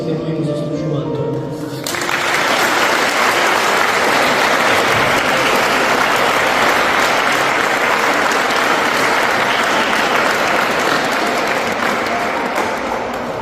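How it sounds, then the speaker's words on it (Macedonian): Loud, sustained applause from a large audience at a live talk, breaking in after a brief moment of a speaker's voice and continuing as dense, steady clapping to the end. "Ве замолувам со еден огромен аплауз да ги поздравим моите родители"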